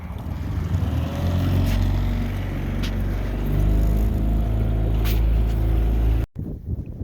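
A 9.8 horsepower outboard motor running on a fishing boat, a loud steady low drone with wind buffeting the microphone, holding continuously before cutting off abruptly near the end.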